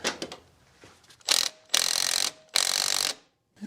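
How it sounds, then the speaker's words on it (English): An electric ratchet whirs in three sustained bursts of about half a second each while snugging a bolt on a Nissan 200SX, with faint mechanical clicks and handling noises before the bursts. "I'm going to try to use my electric ratchet"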